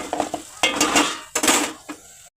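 An old soot-blackened cooking pot, once used over a traditional wood-fired chulha, clatters and scrapes with a metal utensil while turmeric is roasted in oil, giving several close, loud bursts of clinking and stirring.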